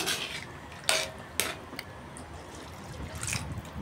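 Sardine lomi being stirred with water in a cooking pot, giving soft liquid sloshing with a few sharp clinks of a utensil against the pot near the start and middle, then quieter trickling.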